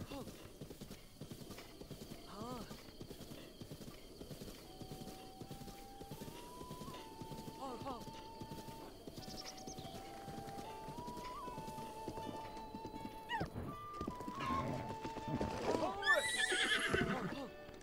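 Rhythmic hoofbeats of a trotting horse in The Legend of Zelda: Breath of the Wild, with several whinnies and snorts, ending in a loud neigh; a voice speaks briefly under a quiet musical background.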